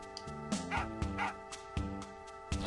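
A dog in the Final Fantasy VIII video game gives repeated short barks and yips in a regular rhythm over soft game music, close and clear.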